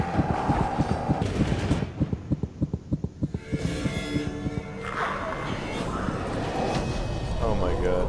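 A Gatling gunner enemy in the Warhammer End Times Vermintide game opening fire: a rapid, rhythmic stream of heavy gunshots lasting a few seconds amid loud game noise, with players talking throughout.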